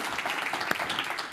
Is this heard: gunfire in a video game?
no